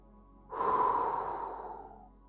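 A single deep breath during a yoga stretch, a close, soft rushing exhale that swells quickly and fades over about two seconds, alone in a quiet room.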